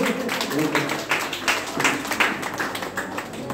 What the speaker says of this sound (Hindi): जोरदार ताली लगाइए